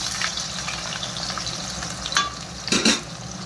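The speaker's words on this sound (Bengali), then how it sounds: "সবার আগে আমি আলুটা ভেজে নিই।" Potato pieces frying in oil for a mixed-vegetable sukto, a soft continuous sizzle near the pan, with a couple of brief clinks and a stir toward the end.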